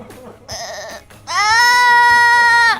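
A person imitates a goat bleating, loud and close: a short nasal bleat, then a longer, strained, wavering one.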